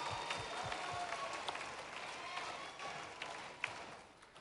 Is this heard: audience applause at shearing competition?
yes